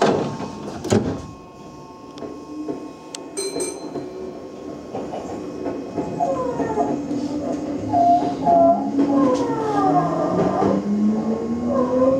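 A Meitetsu 5700 series train at Jingu-mae station: door chime and sliding doors closing, then the train rumbles off with rising motor whine, close and fairly loud, no talk.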